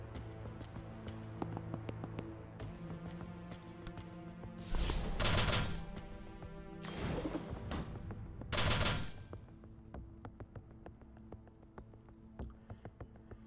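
Bursts of video game gunfire from support fire in the tactical game Tactical Breach Wizards, three loud broadband volleys in quick succession over a steady layer of game music and ambience.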